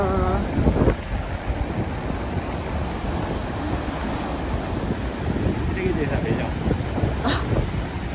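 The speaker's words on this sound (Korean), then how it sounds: "날씨 좋다. 바람 장난 아니고." Strong wind blows at Jeju, buffeting the microphone with a loud, continuous rumble. A person's voice is heard briefly near the start and again later over the gusts.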